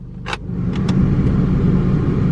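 A car engine idles steadily as its AC compressor engages, with a low, even hum and a few faint clicks early on.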